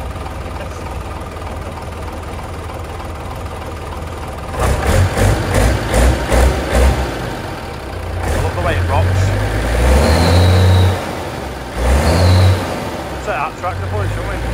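A tractor engine revs with a low, rough rumble that rises and surges in several bursts during muck spreading after a storm, running beneath a man's close, continuous talk on a farm.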